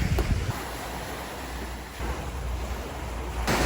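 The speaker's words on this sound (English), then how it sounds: "These waves are serious right now." Ocean waves at a beach in El Nido wash and surge in a continuous broad roar, with gusts of wind buffeting the microphone and no talking.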